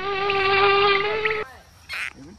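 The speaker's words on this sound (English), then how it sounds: "Every time I reap, the mosquitoes are singing on me" Mosquitoes whine in a summer backyard on a home farm, a loud close buzzing drone for over a second, then a brief quieter buzz and a short sound that may be a voice.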